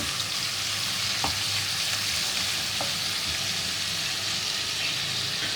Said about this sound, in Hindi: चिकन का कलर चेंज हो जाए, चिकन को इतना भून लेना।